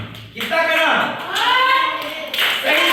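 Clapping for a correct answer in a number-learning lesson, short bursts of claps mixed with children's voices chanting together in a classroom.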